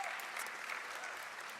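Faint, steady applause from an audience at a short film awards ceremony, a soft continuous patter heard at a distance.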